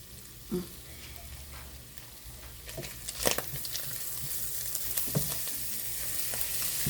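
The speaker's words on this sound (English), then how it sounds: "I'm going to be stirring it in the skillet here" Pieces of cooked turkey breast and broccoli stirred in a skillet for a one-pot rotini dish, with a soft, steady sizzle and a few scattered scrapes and knocks, quiet and close.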